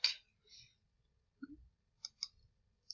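Several sharp, faint computer mouse clicks are spread unevenly across a quiet stretch, with a few soft breathy sounds in between.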